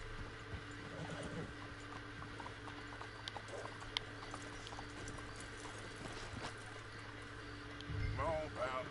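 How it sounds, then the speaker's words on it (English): Horses in the video game Red Dead Redemption 2, with soft hooves clip-clopping at a walking pace, faint and steady, then a short whinny near the end over low background ambience. "Let's hitch your horses up ahead."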